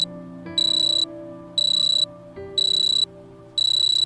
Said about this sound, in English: the melodic ring of the phone pays no mind to your pathetic defense attempts. Instead, it gets louder, demanding your attention.